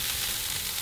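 Broadband sizzle of a tomahawk steak frying in a hot pan, steady and close, a dense hiss with no voices over it.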